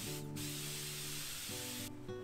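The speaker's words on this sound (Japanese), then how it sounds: "キュレルリップモイスチャースプレー、はい、こちらを服着る前ですね" Curel lip moisture spray hisses out in a continuous fine mist, a close, steady spray lasting about two seconds, with no talk over it.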